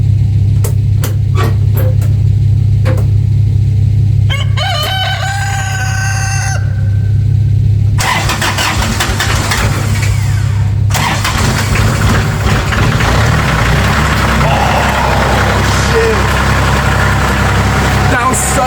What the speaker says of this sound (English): Such a nasty cold start.